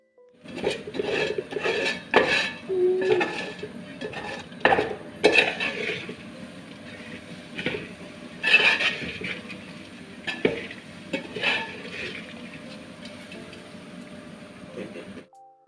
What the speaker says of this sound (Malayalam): എന്നിട്ട് നമുക്ക് വീണ്ടും നന്നായിട്ടൊന്ന് മിക്സ് ചെയ്ത് നമുക്ക് എടുക്കാം